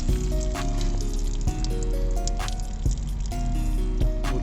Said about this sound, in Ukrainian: тут у нього отак вода зливається, бачите?